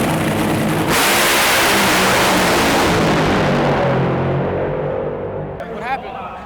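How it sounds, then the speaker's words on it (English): A top fuel dragster makes an NHRA qualifying run, a thunderous, loud broadband engine roar that fills the first seconds and then fades away into the distance. "So we got to watch Leah's car run Q2 of top fuel"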